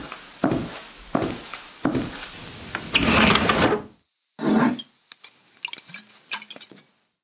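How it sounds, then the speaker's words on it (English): A wooden desk drawer in an Old West marshal's office rattles and slides, with several knocking, clattering handling sounds as a bottle is taken out, alone without speech. "There's a bottle in the desk drawer over there, Chester. Get it for me, will you?"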